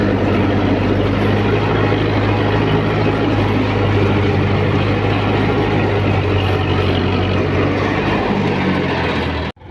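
An air-conditioned tractor's engine running while driving toward a village, a loud, steady low rumble heard from close by, unbroken until a sudden cutoff at the very end.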